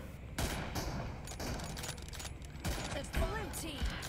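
Gunfire from an M24 during a team deathmatch mobile shooter game comes as loud bursts and single shots over a continuous din, mixed with excited talking.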